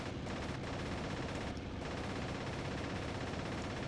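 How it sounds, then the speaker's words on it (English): Machine gun fire from an A6M5 fighter in the IL-2 Sturmovik flight game, a continuous dense rattle of rapid rounds over engine roar, loud and sustained with a couple of brief gaps, no talking. "Maybe if I just manage to get a few extra bullet rounds, machine gun rounds into this one I've already damaged"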